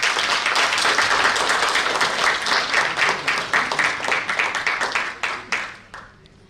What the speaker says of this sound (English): A round of applause for this man